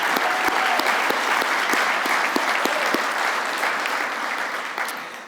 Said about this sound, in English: applause if you like